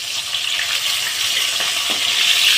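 Fried boga fish lifted out of hot oil onto a plate, a continuous bright sizzle and bubbling hiss of oil, fairly loud and steady, with a faint clink near the end.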